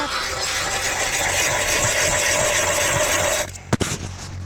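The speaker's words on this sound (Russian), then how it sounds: "Сверлим, в общем, луночку. Бур на 150." A steady grinding, rasping drone of a motorized 150 mm ice auger boring into river ice runs continuously, then cuts off abruptly with a couple of sharp knocks.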